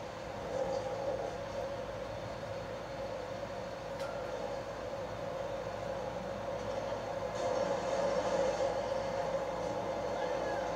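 A train rolls past in Grand Theft Auto 5, a steady, faint rumble and rattle of rail cars holding at an even level for several seconds with no speech over it.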